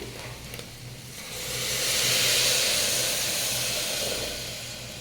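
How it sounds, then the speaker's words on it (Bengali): Water poured into a hot pan of fried lentils for Bengali dal bursts into a loud steaming hiss that swells over a couple of seconds and then slowly fades, close and without speech. "দেখুন আমি জলটা দিয়ে নিচ্ছি"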